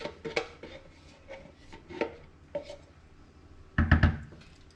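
A utensil scrapes and knocks against a pan while creamy chicken pasta is made, a handful of separate scraping strokes and taps, close, with a louder clatter near the end.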